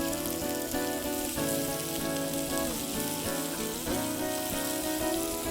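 Small onions tipped into a hot pan for a mutton dish, a steady crackling sizzle that holds at an even level throughout, with a faint tonal hum beneath.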